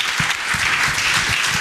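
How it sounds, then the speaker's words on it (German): An audience applauds at the close of a panel discussion at the Bits & Bäume 2018 conference. Steady, dense clapping fills the hall with no talking. "Den Applaus, den dürfen Sie mitnehmen für Ihre Beiträge."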